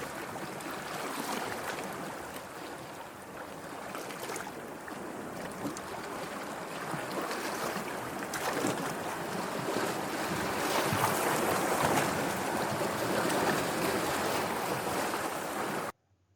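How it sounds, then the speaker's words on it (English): Recorded ocean waves played for a class, a steady broadband wash of surf and wind that swells slightly toward the end before cutting off abruptly. "So students, this is the sound of waves."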